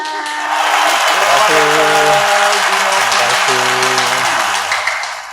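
A studio audience bursts into sustained applause welcoming guests onto an Indonesian talk show set, steady and loud for several seconds, with music playing underneath and fading slightly at the end.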